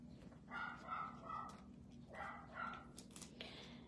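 A dog barks repeatedly in the background during an indoor stamping craft session, short bursts in two clusters, fairly faint and distant.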